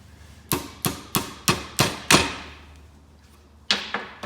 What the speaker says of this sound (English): now I can drive it into the eyelet on my shock.